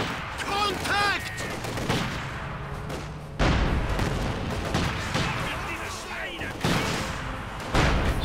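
Gunfire and explosions from a Company of Heroes 2 match, where German snipers fire on Soviet infantry, come as repeated loud cracks and booms mixed with battle noise, with excited commentary running over them throughout.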